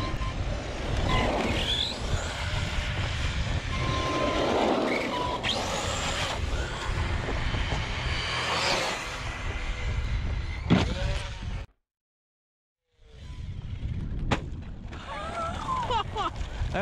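Upgraded Arrma Mojave 4S RC truck tearing along fast, its electric motor whining with rising and falling pitch and gravel or dirt noise. There is a brief dropout before the run resumes, and a voice talks partway through.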